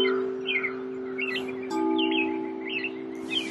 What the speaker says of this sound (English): Nobody's around except the birds, but it's nice to listen to now.